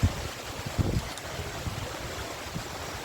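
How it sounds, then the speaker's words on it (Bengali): Steady downpour of heavy rain, a broad constant rushing hiss with a few low thumps, nobody speaking. "কত জোরে বৃষ্টি হচ্ছে,"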